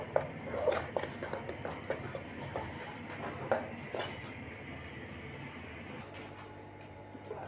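Spiced potato marinade being mixed in a bowl, with clinks and scrapes of a spoon against the bowl in an irregular rhythm, close and moderately quiet, easing off toward the end.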